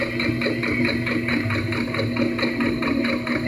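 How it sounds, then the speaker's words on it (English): A sewing machine stitches fabric for a spaghetti strap dress, a close, steady rapid mechanical whir with even pulsing throughout. "So I'm kind of sewing at an angle instead of sewing like a straight"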